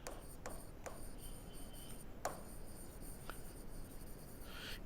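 A pen scratching across paper while a physics problem is worked out, giving soft, steady rasping strokes with a few sharper ticks, close and quiet.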